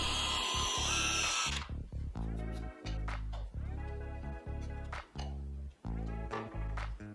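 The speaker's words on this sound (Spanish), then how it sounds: "Después haré un agujero en el centro del MDF para el siguiente paso" A power drill bores a hole through the center of a piece of MDF, spinning in several close stop-start bursts with brief pauses between them, loud and near, with no talk.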